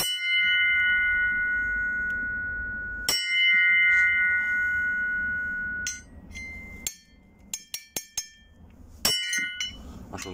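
Small metal bells, one of them Chinese, struck in turn: long sustained ringing tones that decay, then a quick series of sharp clinking taps and a few brighter strikes near the end.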